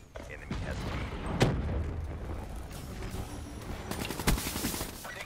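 Video-game gunfire in an online shooter match with RAPs deployed, bursts of rapid shots and sharp booms, loudest near 1.4 and 4.3 seconds, rattling over continuous battle noise.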